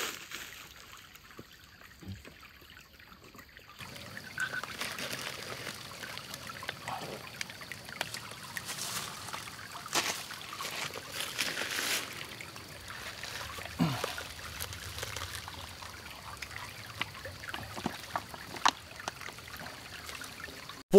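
Water bottles being filled at a stream crossing on a backpacking trail in Red River Gorge, Kentucky: a soft, continuous trickle and gurgle of flowing water close by, with a few light handling knocks.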